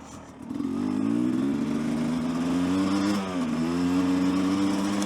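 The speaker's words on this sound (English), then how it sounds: "I like this dirt bike." A gas-powered dirt bike engine revs steadily and loud at close range, its pitch climbing and dipping through a gear change midway, continuous for about five seconds with no talking.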